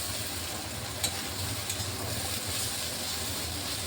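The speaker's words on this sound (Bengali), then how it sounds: "এই যে ভাজা ভাজা হয়ে গেছে দেখুন চালগুলো একদম ভাজা হয়ে গেছে" Rice and jackfruit seeds fry with spices in a pan, giving a steady, close sizzle with a stirring scrape running under it throughout and no talk.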